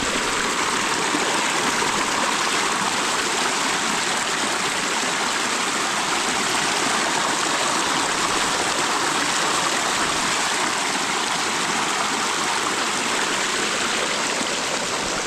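A spring-fed stream rushes steadily nearby, a loud, dense, unbroken wash of flowing water with no voices over it.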